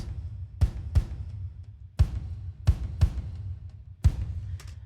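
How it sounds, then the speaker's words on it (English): Deep tom drum hits in a loose pattern, pairs of strikes spaced roughly a second apart, each booming with a short decay and no voices. "So like the tom beat, for example, sounds like this."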